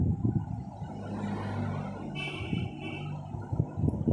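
Vehicles pass along a roadside with a low, rolling rumble that swells and fades, plus a brief higher whine partway through and no speech.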